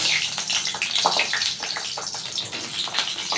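Eggplant pieces dropped into hot oil give a loud, busy sizzle and crackle with scattered pops, up close and steady throughout.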